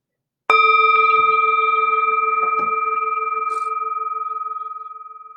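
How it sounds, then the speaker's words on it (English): A meditation bell struck once, giving a clear sustained ring with bright overtones that decays slowly over several seconds in a quiet room. "The sound of the bell returns us to our true home."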